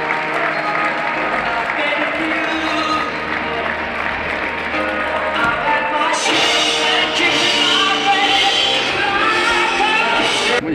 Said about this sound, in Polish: Wielkie brawa na naszych wystarczonach.